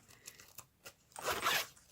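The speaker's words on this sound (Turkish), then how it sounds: "şurada fermuarını açalım" The zipper on a Globox student wallet is pulled open in one long, close, rasping zip after a few small handling clicks.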